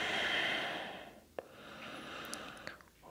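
Deep, slow breathing during a yoga exercise: a long, airy exhale fills the first second, then softer breaths follow after a brief pause, close and quiet with no talking.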